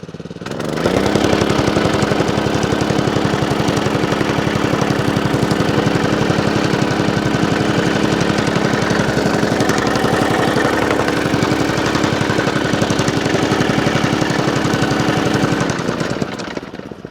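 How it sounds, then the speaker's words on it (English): A gas-powered jumping jack compactor for tight spots runs at high throttle, its engine roaring loud and steady with a rapid hammering bounce that continues unbroken for about fifteen seconds before tapering off. "Right, now to turn up the throttle, when I do this, it's gonna start bouncing."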